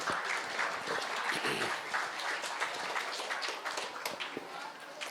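Steady applause from the audience at a CBSE school convocation ceremony, many hands clapping continuously at moderate volume for a few seconds.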